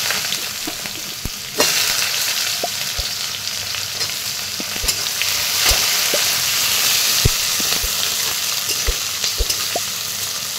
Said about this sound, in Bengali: এরপরে হালকা ভাজলেই পেঁয়াজের খোসাগুলো ছেড়ে যাবে।